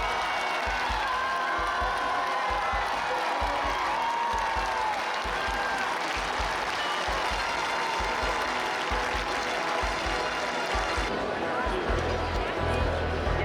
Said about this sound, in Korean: 관객들은 열렬히 환호하고 성공한 기사는 별을 검에 꽂은 채 그 환호에 답한다